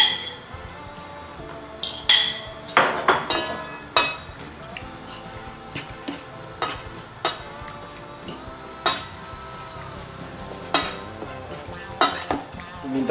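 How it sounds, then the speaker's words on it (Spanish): Squid pieces stirred in a bowl of egg and Worcestershire sauce marinade, with repeated sharp clinks of a utensil against the bowl at an irregular rhythm and wet shuffling between them. "ahora voy con los calamares, van para la marinada del huevo y la salsa inglesa"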